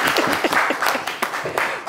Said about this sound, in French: Messieurs, vous pouvez vous applaudir, s'il vous plaît.